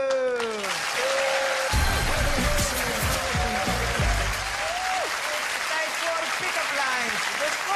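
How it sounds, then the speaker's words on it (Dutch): Studio audience applause on a Dutch television game show, steady clapping under loud music and voices, with cheering and a host speaking over it. "Stop met klappen."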